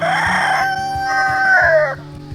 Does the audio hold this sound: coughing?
no